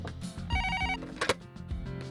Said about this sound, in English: I was saved by the internal phone line ringing